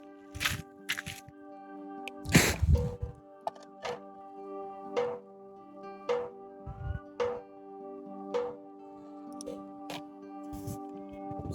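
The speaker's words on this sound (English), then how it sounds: "I want to show you what a sap run is supposed to sound like." Sap dripping from a tapped sugar maple on a mild day: scattered small ticks and taps fall at irregular intervals over a steady background hum, with a few louder knocks.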